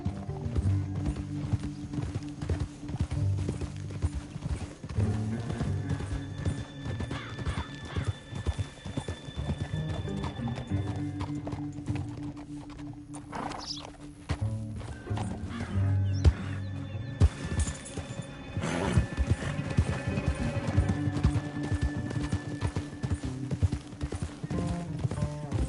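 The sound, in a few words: horse hooves clip-clopping and neighing, Red Dead Redemption 2 video game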